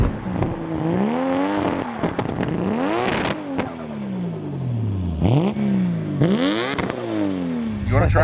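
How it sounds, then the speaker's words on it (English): A Nissan Skyline R34 GT-R V-Spec revs hard for a burnout, pitch sweeping up and down in repeated surges, loud and close, with brief voices in between. "Let me do a burnout."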